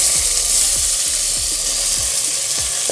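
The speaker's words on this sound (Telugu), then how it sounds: "ఇలా వేసుకున్నాక వీటన్నింటిని లో ఫ్లేమ్లో కాసేపు వేగనిద్దాం" Spinach, carrots, potato and tomatoes frying over a low flame in a pan, with a loud, even sizzle up close and a run of regular stirring or scraping strokes underneath.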